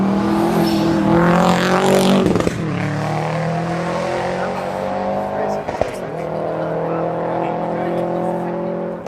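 Rally cars race past on a dusty gravel stage in Otago, engines roaring loud and close with rising and falling pitch as they accelerate and shift, one car after another, while spectators talk nearby.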